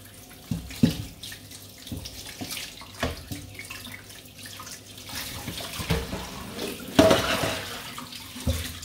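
Running tap water splashes steadily over a whole pork hock being washed in a sink, with irregular louder bursts and clatters as the meat is turned under the stream.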